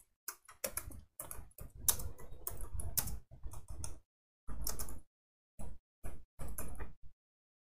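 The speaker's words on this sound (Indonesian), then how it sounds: "Lalu kita ketikkan nama lengkap sesuai KTP." Keystrokes on a computer keyboard in bursts of rapid typing with short pauses, close and clear, while a full name is entered into a form for checking a 2022 BPJS wage subsidy.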